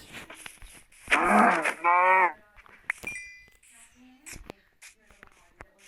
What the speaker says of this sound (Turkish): Aa bir tane inek var.